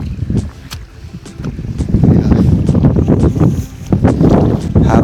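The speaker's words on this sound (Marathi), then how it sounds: "वारा भरपूर आहे" Strong wind buffets the microphone on the Lohagad fort trek near Pune, with gusty low rumbling that swells and fades continuously across the clip, up close and loud.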